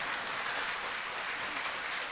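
A Sunday church congregation claps in a short, even burst of applause, a uniform hiss of many hands heard alone at moderate volume.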